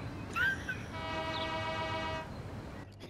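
Trains rumble along the tracks in the video game Transport Fever 2 while a train horn sounds one sustained, fairly faint blast lasting over a second.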